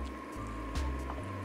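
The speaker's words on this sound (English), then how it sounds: "To that mixture, you're gonna be adding around 400 milliliters of boiling hot water" Boiling hot water poured into a shio ramen soup mixture, a quiet low gurgle of liquid filling a bowl with a few soft splashes, close and faint, no talk.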